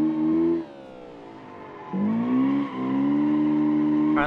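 Toyota Corolla drifting through a parking garage in BeamNG, its engine revving in loud harmonic bursts that drop and climb again, with steady high-pitched tone and tire squeal near the end.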